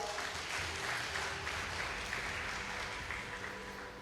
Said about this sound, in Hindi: ताली नहीं बजाएंगे आप?